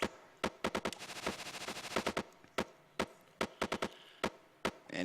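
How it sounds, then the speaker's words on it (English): Gunfire in the video game Hero Core, an upgraded weapon firing two bullets per shot, heard as rapid sharp shots in bursts and single cracks with a brief stretch of quick continuous fire, clear with no talking. "with this upgrade, I fire 2 independent bullets"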